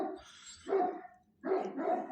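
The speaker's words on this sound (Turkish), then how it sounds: "Onlar da havlıyorlar" Shepherd dogs down the mountainside give two barking bursts, each a short cluster of barks with a pause between, at moderate distance and fairly faint.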